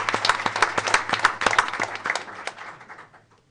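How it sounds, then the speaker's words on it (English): Applause at a school board of education meeting for carpentry competition winners: a small group claps briskly and fairly close, then the clapping thins out and fades to silence after about three seconds. "A round of applause."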